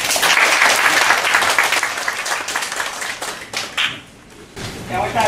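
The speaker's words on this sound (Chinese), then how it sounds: "现在让我们热烈的掌声，请主办人、主持人李前副总统来讲话" An audience at a panel symposium gives loud, dense applause that fades out near the end and then briefly picks up again.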